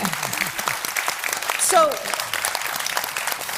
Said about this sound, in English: Yes, you can applaud her.